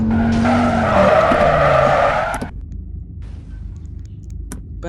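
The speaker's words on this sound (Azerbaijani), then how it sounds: "Maşınımızda da drifti basmışıq." Tires skid and squeal loudly as a car drifts in a video game, a dense, continuous screech for about two and a half seconds before dropping to a quieter engine rumble.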